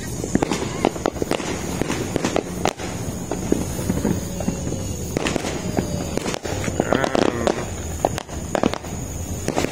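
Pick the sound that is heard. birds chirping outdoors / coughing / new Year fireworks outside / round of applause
new Year fireworks outside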